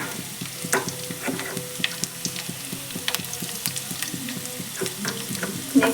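Finely chopped garlic sizzles in hot oil in a pan for pasta, a close crackling hiss broken by quick ticks and scrapes of stirring, with no voices.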